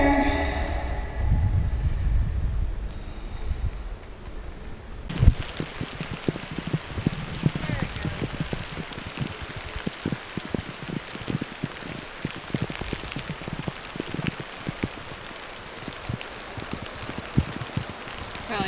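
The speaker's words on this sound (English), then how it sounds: "Beautiful day outside in the rain." Steady rain patters on outdoor surfaces on a rural property, a dense continuous hiss of drops that starts abruptly after a quieter opening, with occasional louder nearby taps.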